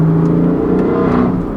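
Exhaust of a tuned 2016 BMW M3 with DCT and mid-pipe as the throttle is eased off, a steady drone drawing out and fading into a whirring tail, heard alone.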